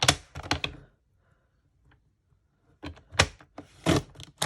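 A blade cutter trims a thin sheet of vellum paper, giving two bursts of close, sharp scraping and clacking strokes separated by a quiet gap.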